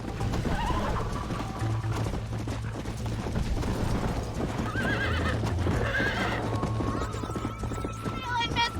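Horse galloping in the video game Red Dead Redemption during a race, with rapid hoofbeats, snorts and whinnies under constant loud game music and effects, while voices talk over it.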